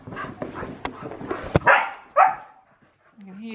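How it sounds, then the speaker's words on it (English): A young dog barks and yips in a home: a run of sharp close barks with softer whimpers between them, then a short pause and a brief human voice at the end. "working on his big dog bark"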